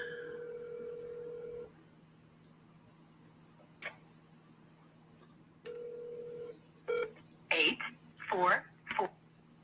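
Telephone tones sound on a call that goes unanswered: two long, steady tone bursts separated by a quiet gap, followed by short bursts of voice and clicks.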